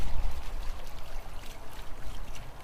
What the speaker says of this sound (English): this water is hitting here and it's splashing out